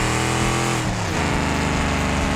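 A car engine in a racing video game revs high, drops as the gear changes, then climbs again in a steady, loud, close drone with no talk.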